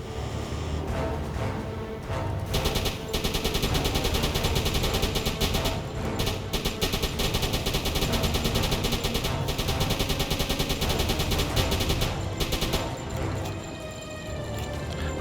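A U-boat deck gun in the UBOAT video game fires in a long, loud, rapid barrage of booming shots with engine rumble underneath, then the shooting stops and the rumble carries on.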